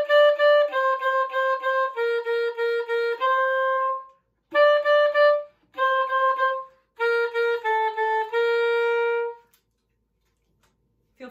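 Band instrument playing a simple melody starting on mi for a major duple music lesson, a clear sustained wind tone moving through a series of separate notes in short phrases, alone, then fading to silence.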